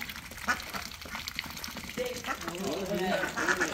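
Ducks swim and clean themselves in water on a farm, giving a few nearby quacks over light splashing and background murmur.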